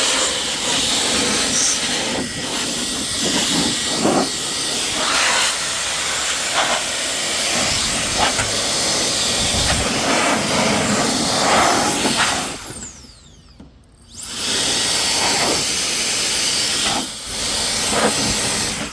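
Loud, steady hiss of an air blower blasting dust out of equipment during cleaning, with a fan-like rushing roar that briefly cuts out midway before resuming.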